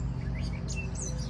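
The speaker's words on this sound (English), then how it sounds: "the birds are actually kind of loud" Birds sing outdoors on a sunny day, bright chirps and tweets coming and going at moderate distance over a steady low hum, like lawns being mowed nearby, with no talking.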